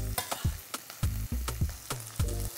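Onions and corn frying in a pan, several rhythmic bursts of close sizzling and stirring scrapes repeating about every half second, with no talking.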